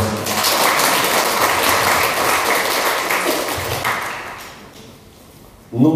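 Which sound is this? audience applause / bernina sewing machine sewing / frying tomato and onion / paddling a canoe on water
audience applause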